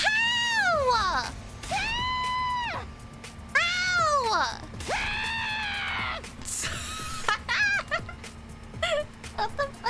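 Shrill, wailing screams rise and fall in a series of drawn-out cries, loud and close, in The Hundred Line -Last Defense Academy- video game, with a brief spoken word near the start.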